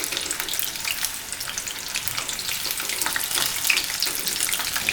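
Chicken lollipop pieces fry in hot oil over a medium flame, giving a steady, dense crackling sizzle that runs throughout at close range, with no voices.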